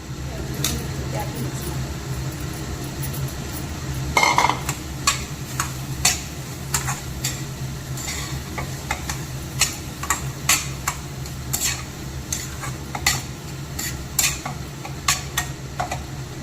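Crumbled paneer stirred and mixed in a pan for dhaba-style paneer bhurji gravy, with steady scraping and light clicking of a spoon against metal, a louder clatter partway through, over a constant low kitchen hum.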